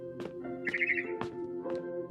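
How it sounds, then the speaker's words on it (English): A barn swallow in What Remains of Edith Finch gives a few short, sharp chirps, with one brief trilled note in the middle, set against a faint sustained tonal background. "Then I heard chirping outside my window"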